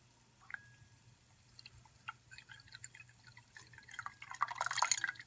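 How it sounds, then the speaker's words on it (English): Ice water is poured into a laboratory beaker, with faint drips and clinks building into a louder splashing pour near the end, with no talk. "We'll add some ice water to this beaker."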